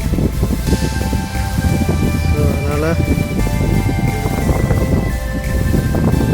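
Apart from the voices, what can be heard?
wind blowing with light rain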